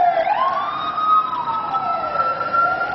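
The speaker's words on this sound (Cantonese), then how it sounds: "兩架警車咧係沿住呢一個係彌敦道啦駛過" Police car sirens wail on Nathan Road in Hong Kong as two vehicles pass, rising and falling tones loud and near, overlapping with some engine noise and no talk.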